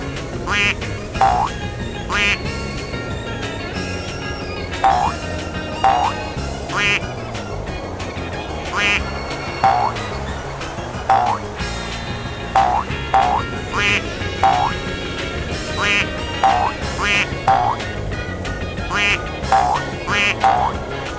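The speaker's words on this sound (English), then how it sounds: "Quack, quack, quack, quack." Ducks quack in a steady repeating series of nasal calls, clear and fairly close, over a continuous background of music or ambience.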